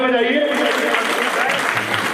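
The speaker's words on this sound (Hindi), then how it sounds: "तालियां बजाइए" Audience claps at a religious discourse, a Bhagavat Katha gathering in Tagore Garden, New Delhi; steady, close applause fills the short stretch while a voice speaks over it.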